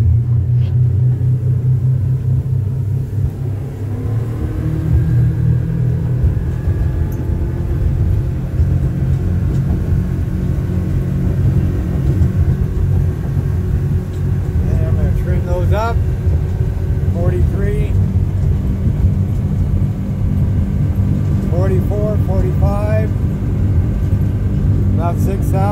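The main motors of a 2018 Admiral Defiance 25 boat give a loud, steady low rumble that builds as they accelerate, with a voice talking briefly over the engine noise partway through.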